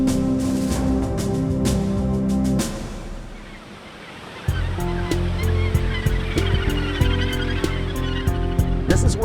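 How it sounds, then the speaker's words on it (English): A dense Australasian gannet colony on the New Zealand coast calls in a constant harsh, honking clamor, with Tasman Sea surf rumbling underneath and a brief lull midway. "of Australasian gannets come to nest"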